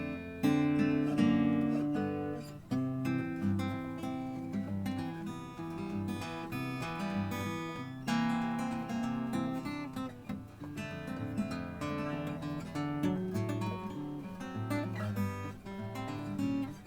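A song played through on guitar without singing, a steady strummed and picked accompaniment with clear chords and a melodic bass line that keeps a moderate, even level throughout.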